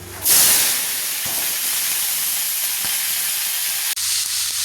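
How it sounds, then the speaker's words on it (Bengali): Chopped onion, ginger, garlic, green chilli, tomato and capsicum hit hot oil with a sudden loud hiss that settles into a steady, close sizzle. "এবার এই তেলের মধ্যে দিয়ে দেবো পেঁয়াজ কুচি আদা কুচি রসুন কুচি কাঁচা লঙ্কা কুচি টমেটো আর ক্যাপসিকাম দিয়ে ভেজে নেব"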